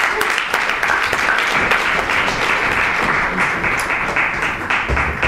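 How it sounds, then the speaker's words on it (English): A comedy club crowd gives loud, dense, continuous applause to an improv comedy troupe, with a voice heard over the clapping. "No, keep clapping, there you go"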